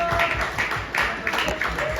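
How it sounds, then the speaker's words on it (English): Audience applause at a comic convention panel for an Ultraman kaiju card game, greeting the first-ever view of new artwork; a steady, moderate wash of clapping throughout, with a voice speaking over it. "So, a round of applause."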